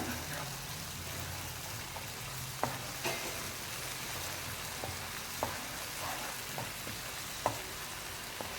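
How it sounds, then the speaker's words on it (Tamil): Ground tomato paste sautéing in a pan for a side dish, a steady soft sizzle running throughout with a few sharp clicks and taps of a utensil against the pan, no voices. "அரைச்சி வச்சுருக்கிற அந்த தக்காளி விழுதையும் அதில் சேர்க்கணும் சேர்த்து அதையும் நல்லா வதக்கிக்கோங்க"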